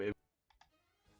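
Faint, brief clicks from a Nintendo Switch on-screen keyboard, two quick ticks after a short burst of voice, very quiet overall.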